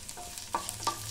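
Urad dal, cumin seeds and dried chillies fry in hot oil, a low sizzle punctuated by two or three sharp spattering pops and scrapes, close and fairly quiet, with no voices.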